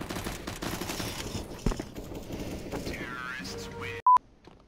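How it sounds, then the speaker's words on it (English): Sustained automatic rifle fire into a wall in CS:GO, rapid repeated shots over game ambience while players talk, ending with a short beep tone. "Just gonna shoot this wall for a minute."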